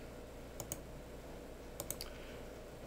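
Faint mouse clicks at a computer while setting up an alarm-monitoring web interface: a pair of quick clicks, then a short cluster of three more about a second later, over a quiet hum.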